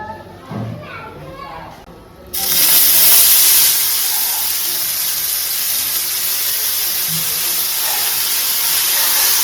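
Fenugreek leaves (methi) dropped into a hot pan burst into a loud, sudden hissing sizzle that holds steady and strong, after a few seconds of quieter background voices.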